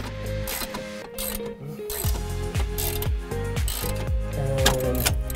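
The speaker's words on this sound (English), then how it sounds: "I'm gonna just jack this up." A jack is worked under the lower control arm of a Honda CR-V, producing repeated ratcheting clicks and mechanical creaks in an uneven rhythm as the vehicle is lifted, close and moderately loud.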